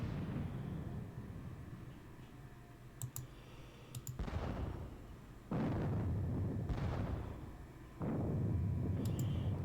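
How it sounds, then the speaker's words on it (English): Artillery fire in the Gettysburg wargame WDS Gettysburg, with three loud booming volleys following one another at intervals, each rolling on in a sustained rumble, plus a few faint interface clicks earlier. "The Pennsylvania artillery. We'll look to hit them."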